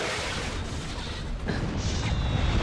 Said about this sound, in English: By the way, fireworks sounds.